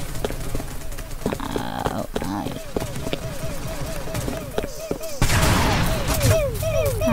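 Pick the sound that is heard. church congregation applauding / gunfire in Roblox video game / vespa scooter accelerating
gunfire in Roblox video game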